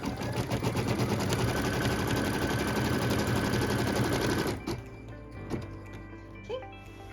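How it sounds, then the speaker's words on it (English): A sewing machine runs steadily, stitching a tack-down line across pieced quilt fabric, a loud dense whir that stops about two-thirds through, leaving a few soft handling knocks. "So this is our final tack down line for all of the piece fabric."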